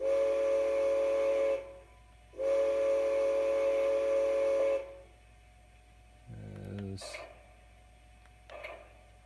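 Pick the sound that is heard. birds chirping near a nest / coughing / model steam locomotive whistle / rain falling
model steam locomotive whistle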